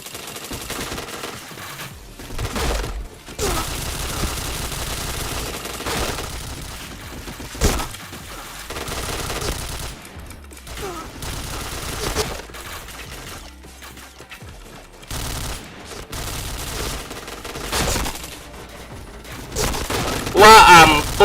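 Gunfire in a shooter video game: bursts of rapid shots and cracks with scattered breaking sounds, loud and irregular, mixed with a voice talking at times.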